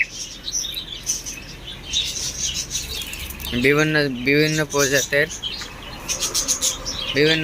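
Dense chirping and tweeting of caged budgerigars, cockatiels and lovebirds throughout, with a brief spoken phrase partway through and steady background noise.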